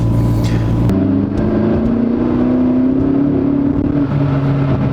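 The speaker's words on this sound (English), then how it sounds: "There's the turbo blow off just sounds so good" A sharp whooshing hiss from a turbo blow-off valve on a McLaren MP4-12C cuts off abruptly, then the engine drones on, its pitch rising and shifting.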